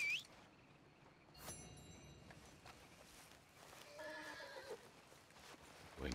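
A horse in the video game Red Dead Redemption 2 whinnies in a drawn-out neigh, with hoof and ambient game sounds around it, moderately close and fairly quiet.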